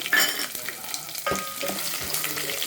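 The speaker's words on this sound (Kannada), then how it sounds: "ಇದನ್ನು ಸ್ವಲ್ಪ ಫ್ರೈ ಮಾಡ್ಕೊಳ್ಳೋಣ ಬೆಳ್ಳುಳ್ಳಿನ" Crushed garlic fries in a pan for puliyogare gojju, a close crackling sizzle broken by several scraping stir strokes and light utensil knocks, with no talking.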